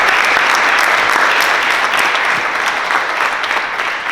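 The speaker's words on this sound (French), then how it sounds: "Vraiment une bonne main d'applaudissement parce que vous le méritez." A crowd applauds at an art exhibition opening, with loud, dense clapping that holds steady from start to finish and no talking over it.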